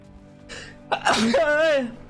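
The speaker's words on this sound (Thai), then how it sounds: "โอ้ขอโทษครับจาม" A single sneeze from a man, close and fairly loud, preceded by a short intake of breath and ending in a drawn-out voiced tail.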